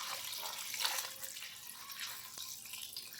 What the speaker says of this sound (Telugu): ఇవన్నీ ఇలా వేసుకొని నీళ్ళు పోసుకోవాలండి.